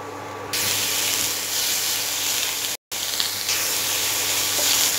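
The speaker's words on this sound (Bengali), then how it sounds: "হিট মিডিয়ামে রেখে আমি দু মিনিটের মতো পাতাটা একটু ফ্রাই করে নেব" Taro leaves fry in hot oil over medium heat, a steady loud hiss and crackle that runs on continuously, broken once by a brief cut to silence.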